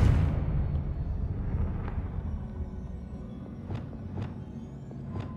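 The Confringo fire spell from Hogwarts Legacy lands as a loud explosive boom that rumbles and slowly fades, followed by a few faint sharp crackles.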